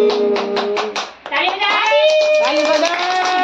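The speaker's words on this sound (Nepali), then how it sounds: "ताली बजाऊ" Clapping at a small child's third birthday celebration at home, a run of rhythmic hand claps followed by an adult singing over the clapping.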